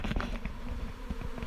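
Honey bees swarm around a released queen after leaving a full nucleus hive, a dense, close buzzing hum with overlapping wingbeats that continues steadily.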